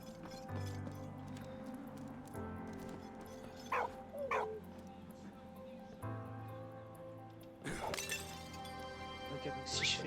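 In the World War I video game Soldats Inconnus: Mémoire de la Grande Guerre, a dog gives a couple of short barks over low game ambience, with a crashing thud shortly after.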